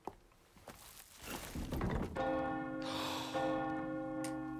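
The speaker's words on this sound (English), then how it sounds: "That's who rung the bell!" A large church bell rings out in Resident Evil 4 Remake, the Separate Ways DLC, a loud resonant strike after a dull thunk, its sustained tone ringing and swelling again before slowly decaying.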